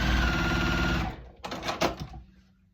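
A sewing machine stitches a J-shaped fabric strip for a checkerboard basket block, running steadily and fairly close for about a second before stopping, followed by a few brief handling clatters.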